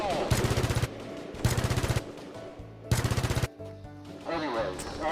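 Gunfire rings out in a video game firefight, with three short bursts of rapid automatic fire close and loud, broken by quieter gaps holding tonal game sounds and background voices.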